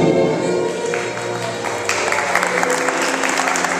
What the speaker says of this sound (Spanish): Fuerte el aplauso entonces para Grace Trujillo